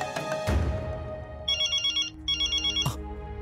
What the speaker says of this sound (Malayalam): ശ്രേയയുടെ ഫോൺ